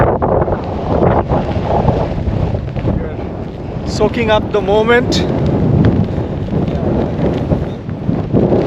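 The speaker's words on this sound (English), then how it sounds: "quite windy." Wind buffets the microphone in strong rumbling gusts at the Caniapiscau Reservoir at the end of the Trans-Taiga Road, with a voice speaking briefly in the middle over the roar.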